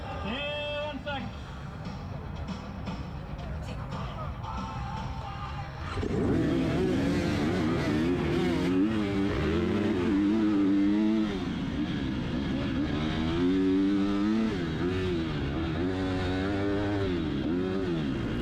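Dirt bikes race at a hare scrambles event, their engines revving and wavering loudly and continuously, with the sound jumping nearer and rougher midway as a rider sets off. A voice talks over the engines.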